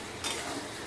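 Mutton curry masala with fried onions and a splash of water is stirred in a pan, a soft, low sizzle with one brief scraping stir early on and a faint clink at the end.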